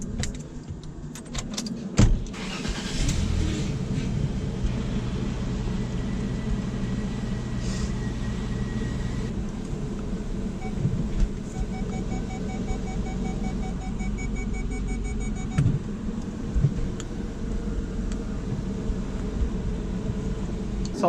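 A Jaguar car's engine runs at a low steady idle after a clutch installation, with a sharp clatter near the start and faint clicks and tones over the hum.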